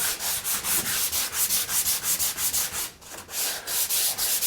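An 80 grit sanding sponge rubs body filler on a 1937 Zephyr in quick, even back-and-forth strokes, a close rhythmic scratchy rasp with one brief pause.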